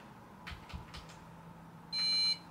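A computer motherboard gives a single short, bright POST beep at boot while entering the BIOS, heard once near the end over a steady low fan hum and a few faint knocks.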